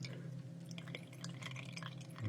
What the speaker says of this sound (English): I just let that run to one side, just let it go, and then I'll pour it back into my little pot.